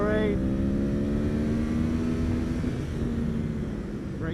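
Race car engine at Buttonwillow circuit holding a steady, slowly climbing drone through the run, loud and close as from inside the cockpit, with a coach's voice talking over it.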